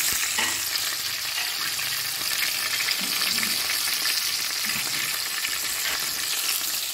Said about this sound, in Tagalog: Nagprito na lang ako ng chicken.